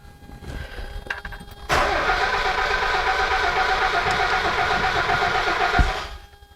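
Old car engine being cranked after the gas is pumped to prime it: a few faint clicks and rattles, then it catches abruptly and settles into a loud, steady, slightly rough idle for several seconds before cutting off.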